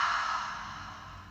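One long, steady exhale during a breathing warm-up, close and breathy, fading gradually over about a second with no talking.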